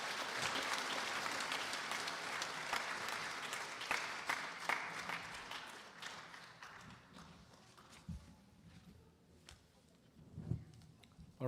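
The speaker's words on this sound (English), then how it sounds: "I think they deserve another big round of applause" A gathering at a Vasant Navratri celebration breaks into a round of applause, loud and dense at first, then thinning into scattered claps and a few stray knocks as it dies away.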